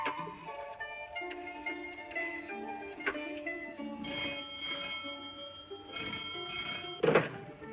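An old-style telephone rings in bursts, a bright bell tone repeating over several seconds, with a louder clunk near the end.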